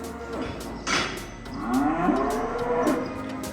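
Cattle on a farm moo repeatedly at close range, with drawn-out, sliding calls overlapping one another during the wait for a herd of around seventeen cows and a couple of bulls.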